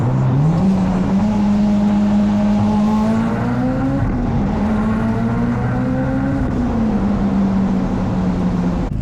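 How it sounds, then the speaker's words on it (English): A built Mitsubishi Evo's engine warms up at a steady, loud idle, its drone holding constant with slight pitch swells and one rise in revs partway through. "Car is warming up right now."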